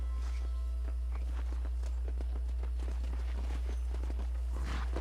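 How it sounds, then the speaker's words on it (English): Steady clip-clop of horse hooves at a walking pace in the video game Red Dead Redemption, close and clear, with a constant low hum underneath. "You're not gonna get much herding done without a horse."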